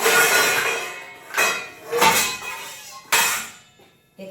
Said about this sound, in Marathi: आता आपल्याला ह्याच्यावर आहे ना झाकण मारायचं.